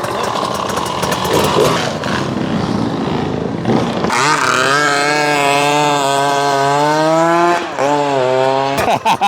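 A Suzuki two-stroke street motorcycle revs out on the road, its raspy engine note climbing and wavering through repeated throttle blips. It is loud and close, with rough, busy noise before the rev.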